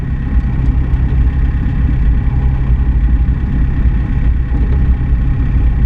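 A steady, loud HGV truck engine rumbles continuously with a deep low drone, idling evenly throughout without pauses.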